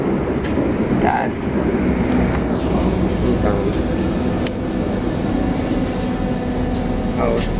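A Berlin U-Bahn subway train rolling through a station, with a steady, loud rumble of wheels and motors and a few faint clicks and squeaks on top throughout.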